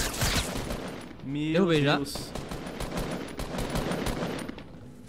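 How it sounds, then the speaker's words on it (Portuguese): Bursts of rapid gunfire ring out during a Fortnite match, with sharp close shots at the start and scattered pops throughout, under excited talking and a short shout. "Meu Deus, ele só atirou na gente, cara."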